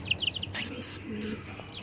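A few high, thin chirps of chicken chicks in short bursts, close by, over a quiet background with a faint low murmur.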